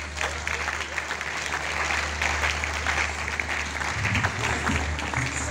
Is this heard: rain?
no